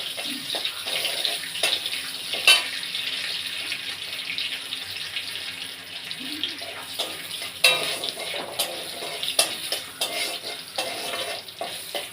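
Bay leaf and two dried red chillies frying in hot oil, with a steady sizzle throughout and occasional sharp clinks and stirring knocks from the pan.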